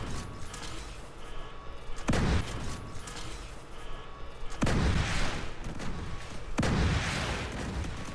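Gunfire in The Division 2, with three heavy booming shots spaced a couple of seconds apart over a dense, continuous game backdrop, each blast loud and close with a long rumbling tail.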